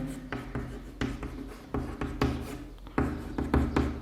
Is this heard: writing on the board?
yes